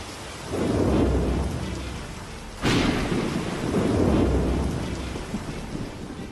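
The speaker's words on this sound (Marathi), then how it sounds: "जोरदार वाऱ्यासह मुसळधार पावसानं हजेरी लावली" Heavy monsoon rain in Mumbai pours steadily with a sharp crack of thunder partway through and a continuous wash of strong wind and downpour throughout.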